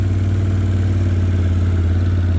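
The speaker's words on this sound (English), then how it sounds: "The little tractor does the job." An old Ford 8N tractor engine runs steadily at a low, even idle-like chug, loud and close, in a field used for mowing, cultivating and tilling, with no talking.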